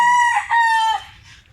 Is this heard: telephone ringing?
no